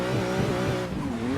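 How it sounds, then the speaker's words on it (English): Drift car in the racing game Assetto Corsa, engine revving with a downshift while the tires squeal in a slide, loud and continuous up close with no talking. "I'm going to downshift just to see what happens."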